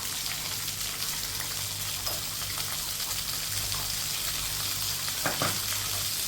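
Chopped tomato frying in a pan for a Bengali fish curry, a steady close sizzle that runs the whole time with a brief stir or clatter near the end.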